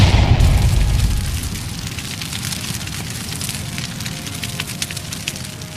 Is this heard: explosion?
yes